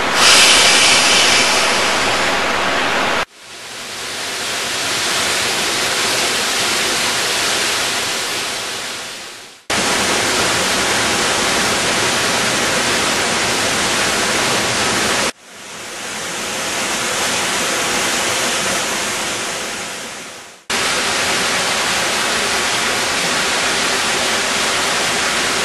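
Codfish Falls, a waterfall on the North Fork of the American River near Foresthill, gives a steady, loud, close roar of rushing water with no voices, split into several segments by abrupt cuts.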